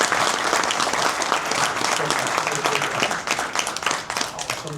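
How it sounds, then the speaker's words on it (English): An audience applauds Dr. Cheri Hampton-Farmer after her talk on communication: dense, steady clapping from many hands, fairly close and sustained throughout with no pause. "Let's give Dr. Cheri a round of applause."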